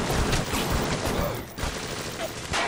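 Dense burst of BioShock gunfire in the underwater city of Rapture, loud and continuous with sharp repeated reports and clatter over a busy game mix, no voices.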